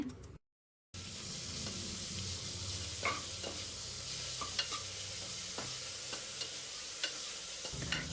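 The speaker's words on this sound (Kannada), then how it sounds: "ಈರುಳ್ಳಿ ಮತ್ತು ಟೊಮ್ಯಾಟೊ ಚೆನ್ನಾಗಿ ಆಯಿಲಲ್ಲಿ ಫ್ರೈ ಆಗಬೇಕು" Onion and tomato fry in oil for a vegetable pulao, giving a steady close sizzle broken by occasional soft scrapes of a stirring spoon, after a brief silent gap at the start.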